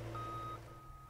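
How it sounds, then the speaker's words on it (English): The backup alarm on a reversing John Deere compact loader sounds as two steady, high electronic beeps over a low engine rumble, clear and close with no talk. "Even though the backup alarm is sounding, you still need to look behind you before and while backing up"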